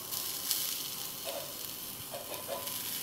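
Coconut, chilli, coriander and onion sizzle steadily in a pan for a spice paste, a soft continuous frying hiss with faint stirring scrapes and no talk.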